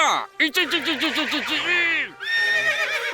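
An animated horse in a king's comic cartoon scene lets out a long, shaky whinny with a quick rising-and-falling pitch, then a second, higher neigh after a brief gap, loud and close.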